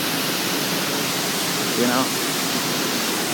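A waterfall rushes in a constant, dense roar that fills the whole scene, with a person speaking briefly over the steady noise.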